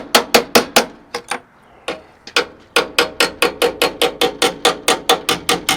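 A bent bracket on a Freightliner FLD truck is hammered flat: about five sharp metal blows, a short pause, then a long steady run of rapid, evenly spaced strikes, loud and close.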